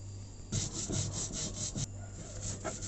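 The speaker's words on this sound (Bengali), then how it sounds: "সরিষা বেটে নিচ্ছি" Mustard seeds crushed into a paste by hand on a grinding stone, a steady back-and-forth scraping rub in close, even strokes that continues without pause.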